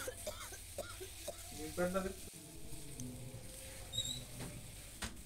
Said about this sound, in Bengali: দেখো মশলাটা দিয়ে আমি তো সুন্দর করে মশলাটা কষিয়ে নিচ্ছি।